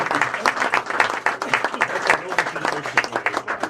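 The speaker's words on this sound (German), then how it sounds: "da darf man auch nochmal applaudieren" Applause from a live audience at a Cologne carnival stage event, a brisk burst of many hands clapping with distinct individual claps, close and lively, with some voices mixed in.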